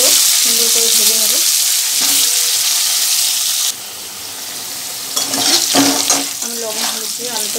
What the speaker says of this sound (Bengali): আমি আলুগুলো ছেড়ে দেবো একই রকমভাবে আলুগুলো সুন্দর করে ভেজে নেব